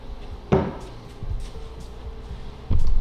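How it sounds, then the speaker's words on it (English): Self-closing cabinet doors shutting on a small Memphis utility cart with drawers and built-in dust collection, giving two soft wooden thumps, one near the start and one at the end, with quiet handling noise between. "Self-closing doors,"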